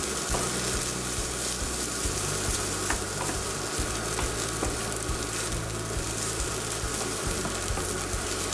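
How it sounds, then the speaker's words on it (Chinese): Shrimp stir-fried with seasoned rice in a pan without oil, giving a continuous loud, close sizzle with a low steady hum beneath and faint scraping strokes, no voices. "翻炒至肉质发红"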